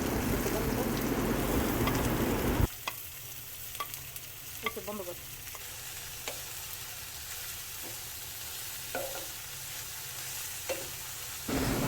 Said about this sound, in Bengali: ফার্স্টে আমি কড়াইতে তেল দিয়ে এখানে গাজরগুলো মরিচ পেঁয়াজগুলো ভেজে নিব ভালো মতন করে